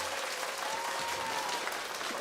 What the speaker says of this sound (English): we need the clap